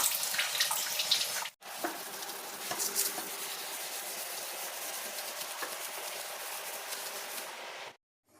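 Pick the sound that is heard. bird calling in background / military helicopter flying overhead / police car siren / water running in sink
water running in sink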